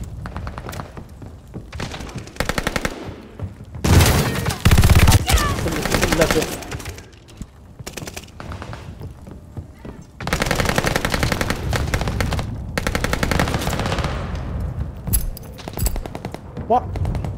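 Video game gunfire, with loud bursts of automatic rifle fire and rapid volleys of shots, comes in clustered salvos separated by brief lulls, occasional thuds mixed in, and players talking over it at times.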